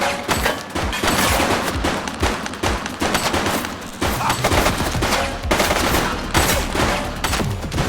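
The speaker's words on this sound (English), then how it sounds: "Shots fired!" Dense gunfire in the police video game The Precinct, a loud continuous exchange of rapid shots and bursts that keeps up with almost no pause.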